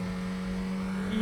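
A 1989 Suzuki GSX-R 750 motorcycle engine holding a steady, buzzing hum at moderate volume, briefly swelling louder at the very end.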